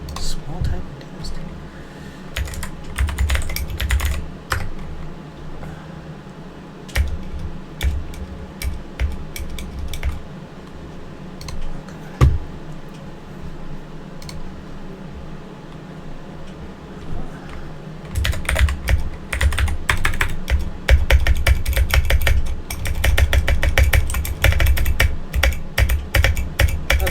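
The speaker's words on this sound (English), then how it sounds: "So now we're gonna have to do a small typing test." Fast clacky keystrokes on a Keychron K4 mechanical keyboard come in bursts, pausing midway, then a dense rapid stretch of typing near the microphone.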